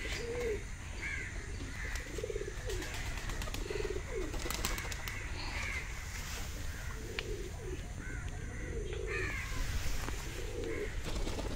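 Fancy pigeons coo in soft, rounded phrases that repeat throughout, with a few sharper bird calls and a steady background hum of a busy aviary.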